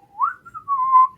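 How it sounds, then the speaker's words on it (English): A person whistles a short melodic phrase, rising then holding steady with a brief pause midway, close and clear with no talk over it. "She's whistling now."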